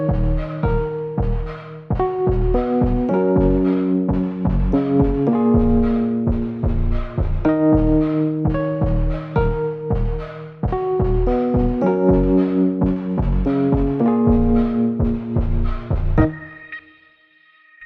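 Sustained synth pads and chords from a bass house track play loudly on their own in a steady repeating pattern of layered notes. They ring through to an abrupt stop near the end.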